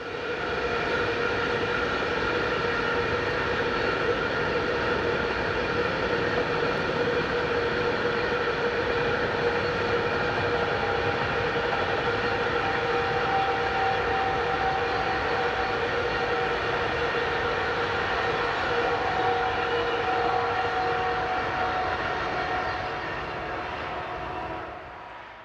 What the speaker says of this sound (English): working this rail cargo carrier automotive train